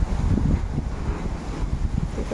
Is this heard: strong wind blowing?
yes